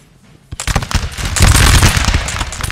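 Dense musket volleys and rolling gunfire from a Napoleonic line battle in Napoleon Total War, loud and continuous after a quiet half-second opening, with overlapping crackling shots and heavy booms.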